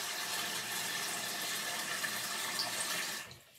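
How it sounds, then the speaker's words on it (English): Water runs steadily into a tub holding dry sea moss for making sea moss gel, a continuous close splashing rush that stops abruptly near the end. "put some water into the tub like this with this dry sea moss gel"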